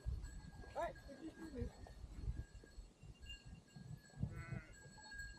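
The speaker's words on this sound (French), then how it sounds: "On s'improvise berger et on fait avancer les moutons." Sheep bleat a few times at close range on an offroad track in Romania, wavering cries over outdoor rumble and people talking while the flock is herded.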